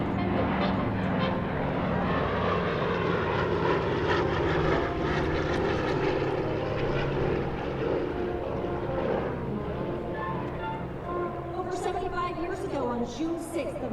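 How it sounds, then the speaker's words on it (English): The C-47 warbird That's All Brother flies past at an air show, a loud, steady propeller-engine drone that swells and slowly fades, with talk over it. "We've got the C-47, That's All Brother."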